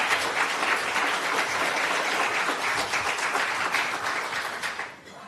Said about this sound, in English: we don't allow applause after every comment. A little late for that.